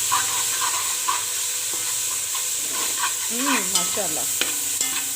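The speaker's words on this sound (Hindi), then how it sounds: "तो अच्छे से हम इन सब चीज़ों की जो है वो भुनाई कर लेते हैं।" Mixed vegetables for pulao sautéing in a pot, a steady close sizzle with scraping stirs throughout and a brief spoken word partway.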